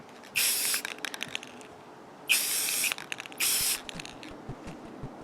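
Three separate hissing bursts from an aerosol spray paint can coating a replica sword, each lasting under a second, with quiet gaps and faint clicks between them, close by.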